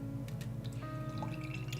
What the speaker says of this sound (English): Pouring into my Rouge River tulip style glass, fat tulip style glass.